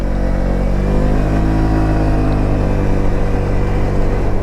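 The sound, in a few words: Voge SR16 125 scooter accelerating up a slight hill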